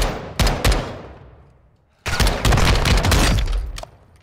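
Gunfire in Call of Duty Modern Warfare 2: two sharp shots, a short pause, then a loud sustained burst of rapid automatic fire with booming echoes, close and dominant with no talking.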